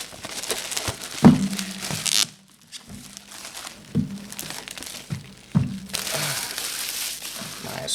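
Protective plastic film being peeled off a DJI Mini 4 Pro drone box, giving crinkling, tearing rips in a few close bursts separated by quieter pauses.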